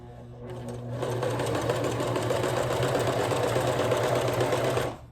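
An old Singer sewing machine stitches through the thick seam of ripped jeans, starting after a brief pause and then running at full speed in a loud close rapid chatter before stopping abruptly.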